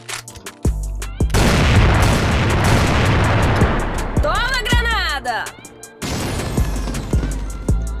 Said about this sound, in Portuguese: Bomba de fumaça.